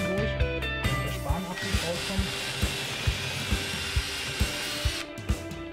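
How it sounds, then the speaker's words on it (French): A power drill bores holes in wood for a DIY Easter bunny decoration, a sustained close whine with a regular rhythmic chug as the bit cuts, cutting off near the end. "et je peux percer. En ressortant de temps en temps pour évacuer les copeaux."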